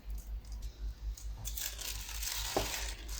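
A plastic freezer bag is pressed and closed around a ball of minced meat, giving close crinkling and rustling of plastic in short irregular bursts with a brief sharper crackle near the end.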